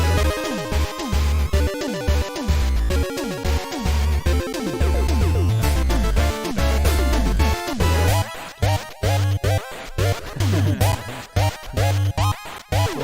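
Final Fantasy-style prog battle music, dense and busy with fast shifting melodic lines, driving bass and sharp percussive hits that grow choppier toward the end, loud throughout with no voices.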